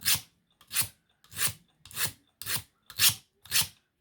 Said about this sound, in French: je vais venir l'affûter un peu